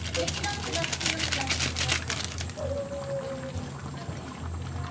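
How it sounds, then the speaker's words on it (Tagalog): Minudo seasoning mix being poured into a cooking pot in a home kitchen, a soft steady pouring hiss that lasts a few seconds under a person speaking. "Ilagay na rin natin yung ating Minodo mix para kumulay siya ng gusto."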